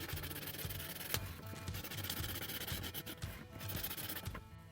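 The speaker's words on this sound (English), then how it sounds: "Now that the cloche is sanded" Glass cloche for a begonia bubble being sanded by hand, a steady close gritty rubbing with quick repeated back-and-forth scratching strokes, no talking.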